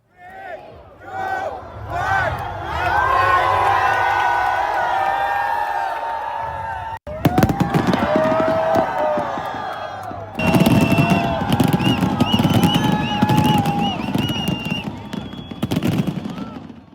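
New Year fireworks burst over a crowd of about three hundred thousand at Lusail Boulevard, Qatar, during a celebration that also featured a drone show. Loud, rapid crackling volleys ring out over steady crowd noise and cheering.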